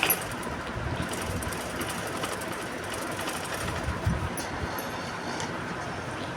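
A sewing machine stitches a blouse seam, giving a steady, continuous mechanical whir and rattle at moderate volume throughout, with no voices.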